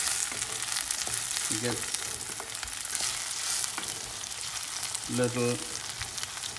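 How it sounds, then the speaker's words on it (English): Garlic, shallot and red onion frying in a pan for Kerala fish curry, a constant close sizzle with intermittent stirring clatter, and a voice speaking briefly and quietly. "So we need to just stir for 5 minutes so that all the garlic, the shallot, the red onion"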